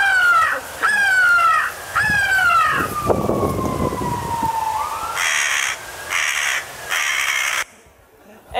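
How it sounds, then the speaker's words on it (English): A real crow caws back in a short series of harsh, descending calls, fairly near and loud, answering a crow-call robot, with a brief burst of other noise between calls. "And that's a real crow right there."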